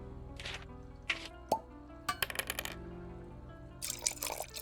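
Liquid pours and plops into a drinking glass in a forensic autopsy game, a few separate splashy bursts and drips spaced out over quiet background hum.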